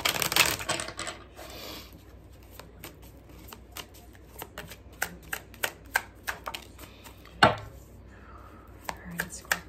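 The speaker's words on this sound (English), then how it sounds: "we're going to pull a spread and some oracle cards" Oracle cards being shuffled and pulled, with a riffle burst at the start and then scattered light snaps and taps as cards are drawn and laid down, close and quiet.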